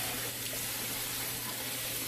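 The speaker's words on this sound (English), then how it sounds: "As you can see, it keeps the water like continuously flowing." Tap water flowing continuously into a sink while eggs are washed with an egg cleanser, a steady close hiss of running water with no pauses throughout.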